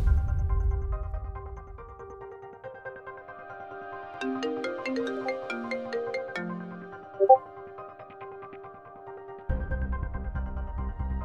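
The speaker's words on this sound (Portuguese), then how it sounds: "Sempre que o telefone da minha namorada toca" A mobile phone ringtone plays a melodic electronic tune over several seconds, with a louder musical background before and after it.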